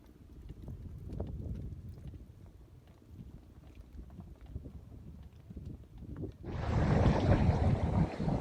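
Sailboat under way in wind at sea off Los Roques, Venezuela, with a steady low rush of water and wind against the hull, then a sudden loud, broad gust of wind noise buffeting the microphone near the end.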